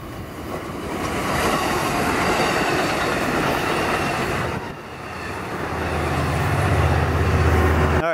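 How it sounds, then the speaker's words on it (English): A train rumbles past at a distance with a steady broad roar, rattling wheels and some faint squealing, swelling and easing slightly over several seconds. "I see a train down there."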